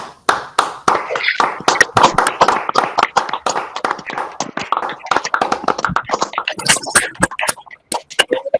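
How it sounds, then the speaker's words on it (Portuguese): An audience at an innovation talk gives a sustained round of applause, many sharp hand claps packed densely at close range, holding steady for several seconds before thinning into scattered claps near the end. "que a nossa audiência se manifeste com uma salva de palmas aí para o Daniel"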